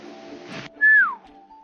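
A single high, rising-then-falling whistle, loud and clear, following a brief burst of noise; a person in Washington imitating an elk's bugle.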